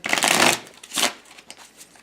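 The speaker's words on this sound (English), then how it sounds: "get your high noon cards ready. Shuffle them and put them to the side." Playing cards for the Rail Raiders board game are shuffled in a burst of riffling, followed by a second shorter riffle and a few light taps as the deck settles; close and crisp, with no talk.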